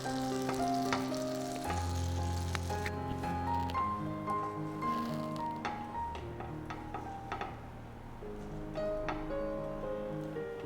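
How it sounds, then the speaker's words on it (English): Bread toasting in a butter-brushed pan gives a steady, soft frying sizzle that runs throughout, partly masked by louder tonal background music. "Now let's place the prepared bread into the pan like this and toast it."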